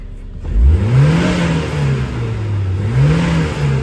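A Peugeot 305 Turbo engine, restarted after ten years, revs up sharply as the accelerator is pressed, rising from idle, holding and dipping, then climbing again, loud and close with no talk.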